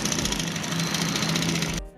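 Sewing machine stitching the shoulder seam of a V-collar garment, a fast rapid mechanical rattle running steadily up close before stopping abruptly near the end.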